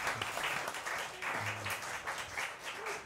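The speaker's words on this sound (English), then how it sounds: "Give yourselves a round of applause" Live-music audience applause during an in-studio livestream concert, a few seconds of scattered, moderate clapping with brief low voice sounds underneath.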